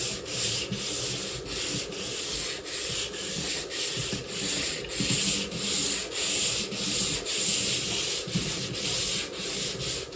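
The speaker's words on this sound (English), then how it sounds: "I'm going to sand this lightly before I put any other coats on it." Hand sanding lightly over painted model railway scenery, a steady rhythmic scratchy rubbing in even back-and-forth strokes, close up and alone.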